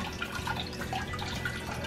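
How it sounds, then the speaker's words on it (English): Water dripping and trickling from blanched Swiss chard leaves lifted out of an ice bath, a soft steady patter of small drops close by with no talking. "drip out as much of the water as I can"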